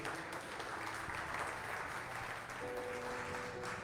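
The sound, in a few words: congregation applauding in church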